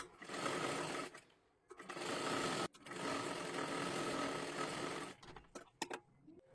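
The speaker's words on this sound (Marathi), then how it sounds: "ह्याच्यावरती आपल्याला शिलाई पूर्ण मारून घ्यायची आहे।" A sewing machine stitches a seam along fabric in three bursts of rapid whirring, each stopping abruptly, then a few short clicks and taps as the cloth is adjusted.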